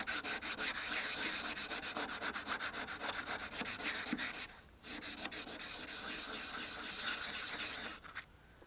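Steady, close rubbing of wet 2500-grit sandpaper worked by hand over primer on a Fiat 126p car body, a continuous rhythmic scrubbing with short pauses near the middle and end.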